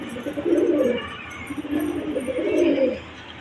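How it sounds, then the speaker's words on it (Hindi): Soft, throaty pigeon cooing in two drawn-out phrases, close by, with light background noise. "काफ़ी सारे कबूतर हमने यहाँ पाल रखे हैं, देख सकते हो आप"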